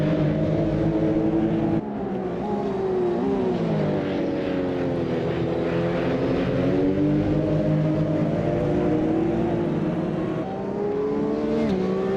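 Racing cars from the video game Automobilista 2 at Circuit Gilles Villeneuve, a pack of engines droning together loudly and steadily, pitches sliding up and down as they brake and accelerate into the first chicane.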